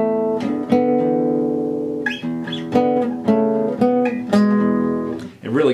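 A clean guitar plays a short melody harmonized a sixth below, two parallel voices ringing together with plucked attacks.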